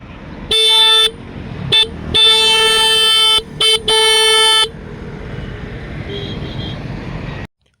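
A 2025 Honda CB300R motorcycle horn beeps several times, short and long bursts close by, over a low idling engine rumble.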